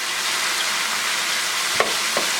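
Peppers and zucchini sizzle in coconut oil over medium-high heat, a steady broad frying hiss with a couple of brief clinks or stirs near the end.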